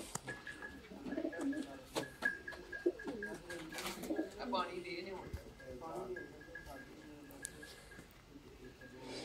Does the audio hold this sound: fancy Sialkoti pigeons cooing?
yes